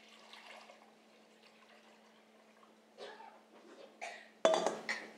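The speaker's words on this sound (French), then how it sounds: "Puis mettez votre saladier dans une casserole à feu doux." A mixing bowl is set into a saucepan over low heat in a kitchen, giving a few light clinks and clatters of dishes, the last sharper and louder, against a faint steady hum.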